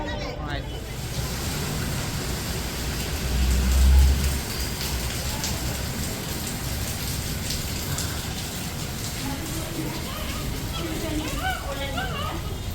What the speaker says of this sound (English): It's like a monsoon outside. It's pouring with rain.